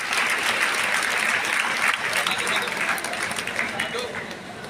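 Students at an awareness program in Siddipet applaud: dense, sustained clapping from a large crowd fills the whole stretch, slowly easing toward the end, with voices mixed faintly into the noise.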